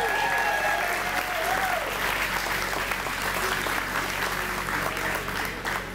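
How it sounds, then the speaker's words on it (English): Sustained applause from an audience at an evening public event on craft beer and clean water, steady and fairly loud for about six seconds, with a faint whistle near the start. "Let's hear some applause for Jim Leonard and Ray Wunderlich."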